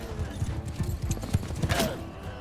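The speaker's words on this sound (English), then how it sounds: "Oh, that's a horse." Horse hooves in Mount and Blade Bannerlord, a quick run of clip-clop beats close by with a brief clatter near the end, no talk over them.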